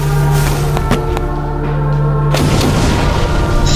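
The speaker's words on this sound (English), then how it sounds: "It's also going to explode." An explosion in the World of Goo video game: a deep boom breaks out partway through over steady tonal game music, followed by a rough, rumbling tail.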